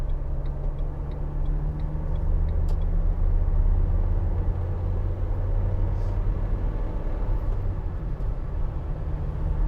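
A 2016 Vauxhall Vivaro 1.6 CDTi ecoFLEX Sportive van is driving, heard from inside the cab as a steady, low engine and road rumble, with a light rhythmic ticking early on.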